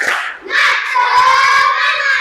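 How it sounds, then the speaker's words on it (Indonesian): A class of children at an Indonesian school chant and clap together in a loud spirit cheer, their voices shouting in unison with hand claps for about two seconds. "Oke, tepuk semangat dulu semuanya."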